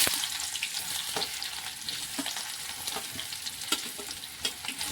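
Onions tipped into hot oil already crackling with mustard seeds and cumin, for a drumstick-leaf stir-fry, hiss in a steady, close sizzle, broken by a few sharp spatters and stirring scrapes, with no talk over it.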